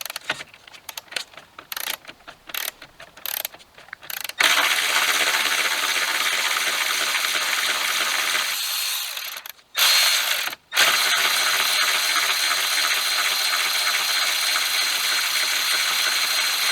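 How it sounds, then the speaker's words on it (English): A ratchet works a bolt out on a Volkswagen Golf R during an upper front stress bar install. It starts with a burst of quick clicking and jangling, then turns to a sustained loud whirring buzz like a power tool, broken by two brief gaps. "now what I'm doing is I'm just taking this bolt out and replacing it with the new bolt."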